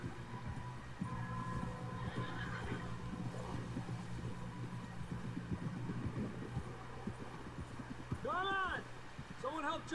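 In Red Dead Redemption 2, horse whinnies and snorts rise near the end over a steady low rumbling background, with hoof-like clatter and people talking throughout.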